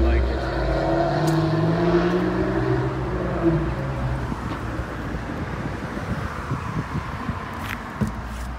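An Aston Martin AMR edition car drives on a test drive, its low engine rumble and road noise steady from inside the cabin, with wind buffeting throughout.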